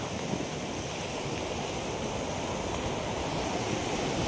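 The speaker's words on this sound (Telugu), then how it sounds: "వర్షం వస్తాను లైట్గా" Light monsoon rain falling outdoors, a steady, even hiss of drizzle with no breaks, moderately quiet and with no voices.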